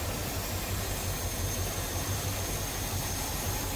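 A 1960 Oldsmobile Super 88 with a 394 V8 idles steadily with a smooth, even low rumble and exhaust pulse, close and constant throughout with no talking.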